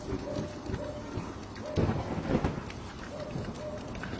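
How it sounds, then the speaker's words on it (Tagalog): Rain pours steadily through a thunderstorm, with a louder rumbling swell near the middle that fits a thunder roll, all fairly close and continuous without clear talk. "Ang lalakas pa naman ng kulog at kidlat."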